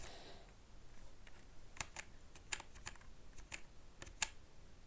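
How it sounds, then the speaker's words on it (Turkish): Soft keys are pressed one after another on a computer keyboard, a scatter of quiet irregular clicks over faint room hiss, no voices. "E'ye bastım klavyede."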